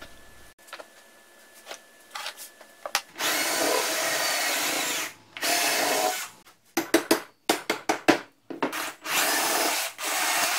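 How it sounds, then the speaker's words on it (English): Bursts of power drilling into a wooden drum platform on a workbench, several sustained runs and short stuttering pulses separated by pauses, close and fairly loud with no talking. "I used bench dogs to resist sideways pressure from drilling"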